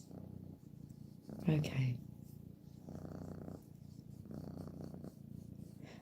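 A contented female cat purrs in a low, steady rumble, coming in repeated cycles close to the microphone, with a brief spoken word partway through.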